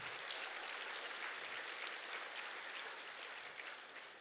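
A church congregation claps enthusiastically and continuously during a sermon, a dense, even wash of applause that stays loud throughout and tapers slightly at the end.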